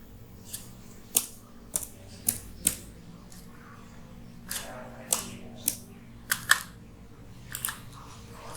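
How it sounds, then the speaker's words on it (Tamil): Keys clack on a computer keyboard as a word is typed into a search bar, sharp separate clicks in short irregular bursts, close and fairly loud over a quiet room. "நான் வந்து சும்மா கூகுள் அப்படின்னு டைப் பண்ணிக்கிறேன்"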